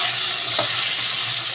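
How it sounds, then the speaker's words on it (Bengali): Taro (kochu mukhi) frying in a pan, a constant dense sizzle with one soft utensil scrape near the middle. "কচুরমুখিটা ভাজা হয়ে গেছে"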